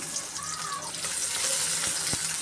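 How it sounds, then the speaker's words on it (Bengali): Soft, steady sizzling of onions frying in oil in a wok, with faint clinks and stirring noises mixed in. "আমি কড়াইতে তেল দিয়ে দিলাম পেঁয়াজ দিয়ে দিলাম"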